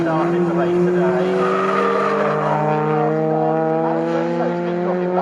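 Race cars in a club endurance championship race at Snetterton circuit, including a Cupra, hold a loud, steady engine drone at high revs, with layered harmonic tones rising slightly and tire noise running throughout.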